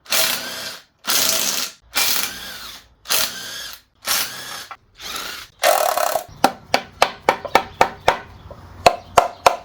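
Tools work on the sump of a broken Fiat 500 engine: several loud, close bursts of a power tool, then a fast series of sharp ratchet clicks.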